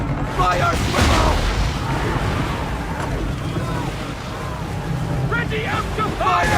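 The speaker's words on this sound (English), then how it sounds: "Use the swivels on him, Captain! Fire!" Swivel cannons fire repeatedly from a sailing warship during a naval battle in Assassin's Creed III, booming blasts layered over roaring wind, waves and shouted crew voices throughout.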